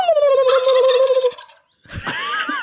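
A loud, close turkey gobble used as a sound effect: a descending warbling call followed by a brief gap and a second burst of quavering gobbles.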